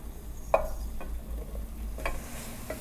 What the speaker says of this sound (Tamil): இப்போ நான் மஷ்ரூம்ஸ் ஆட் பண்ணிடுறேன்